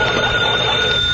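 An old hand-cranked telephone bell rings in a dramatised scene, one continuous loud metallic trill running without a break for the whole short moment.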